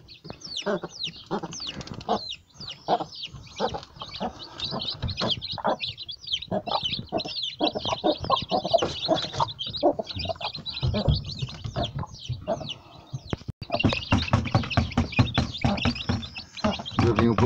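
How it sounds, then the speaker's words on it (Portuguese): Free-range chickens and newly hatched chicks clucking and cheeping close by, a busy run of repeated clucks and high peeps with scratching movement, steady throughout. "É os pintinhos que nasceram, os tute."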